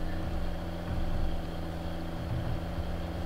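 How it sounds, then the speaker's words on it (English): Older tractor engine idling in the Farming Simulator 19 video game, a low, steady rumble with a constant hum, fairly quiet and unbroken with no speech. "Good engine sound."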